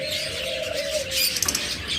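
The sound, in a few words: pet birds chirping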